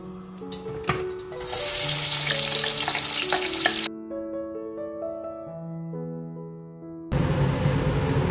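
Onions hiss and crackle in a pan for hara masala pulao, bursts of loud sizzling with stirring, broken by a quieter stretch of background music.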